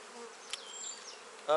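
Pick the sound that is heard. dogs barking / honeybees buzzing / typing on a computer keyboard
honeybees buzzing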